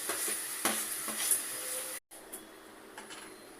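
Tempering for palak dal sizzles and crackles softly in a pan, a steady hiss broken by a few small pops and a brief clink of utensils, with one short dropout midway.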